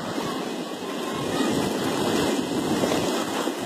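Floodwater rushes through a canal after rain, a loud steady broadband roar of churning water close by, with slight surges in strength.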